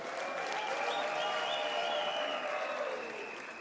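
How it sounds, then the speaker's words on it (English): Sustained audience applause at a university autumn graduation ceremony in South Africa, a dense, steady wash of many hands clapping that holds loud and even before easing slightly at the end. "Let us give her a hand of applause."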